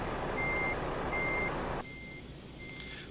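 Reversing beeper on a truck backing in Euro Truck Simulator 2, steady evenly spaced beeps over a rumbling engine that drops away midway, leaving the beeps more exposed.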